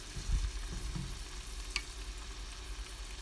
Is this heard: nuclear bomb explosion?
no